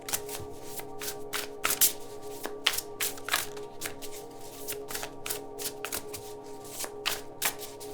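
Tarot cards are shuffled by hand in a quiet room, giving a run of quick, crisp riffling bursts and soft taps in an irregular rhythm, close and fairly faint.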